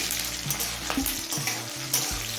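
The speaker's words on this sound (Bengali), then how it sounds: "লঙ্কা রসুন আর কালো জিরেটা কিছুক্ষণ ভেজে নিয়েছি" Chillies, garlic and black cumin sizzle and crackle in hot oil in a pan, a steady close frying hiss with occasional stirring scrapes.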